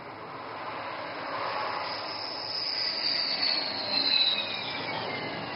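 A Rafale fighter jet lines up to land on a highway, its steady broadband engine roar building slowly, with a faint high whine drifting across the middle and no voices.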